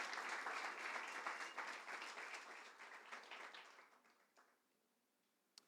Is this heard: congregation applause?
yes